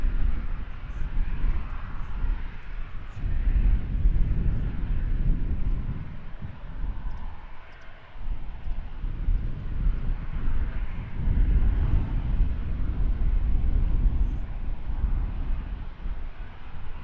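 A DHL cargo plane departs London Luton Airport, its engines producing a broad, sustained roar that swells and fades across the clip, with wind buffeting the microphone.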